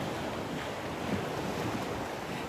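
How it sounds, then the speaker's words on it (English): Ocean surf rolls continuously with a broad steady wash, mixed with wind buffeting the microphone and no other sounds. "the sound of the waves is amazing"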